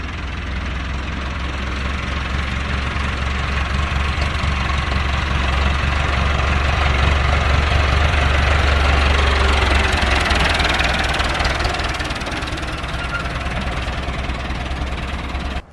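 A tractor fitted with a forklift carrying crates idles in a vineyard during the grape harvest, its diesel engine knocking steadily and close at hand for the full stretch.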